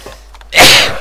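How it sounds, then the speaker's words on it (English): A single sharp sneeze bursts out after a faint breath, close and loud, with no talk around it. "Oh dear, sorry. Sneezed."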